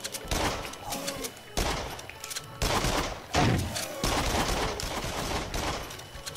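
Shotgun blasts in the PS4 VR horror shooter Rush of Blood, several loud booming shots in close succession, each with a sharp onset and a short decaying tail, with no speech over them.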